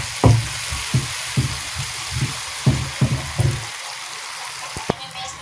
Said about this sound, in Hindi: इसमें टमाटर का पेस्ट डाल रही हूँ, जो कि 1 अदद है। इसको भी अच्छे से भून लेना है।